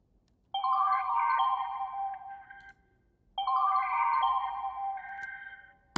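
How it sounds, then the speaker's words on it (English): An Omnisphere synth counter melody plays two identical sustained, bell-like ringing phrases in clean succession, each holding and gently decaying before a short gap, with no voices. "So I went into Omnisphere, and I added this sound right here."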